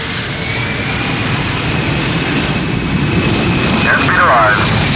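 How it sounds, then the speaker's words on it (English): Airplane engines at takeoff thrust give a loud, steady, broad roar that holds without a break, with a faint whine riding on top and a slight swell toward the end. "takeoff thrust."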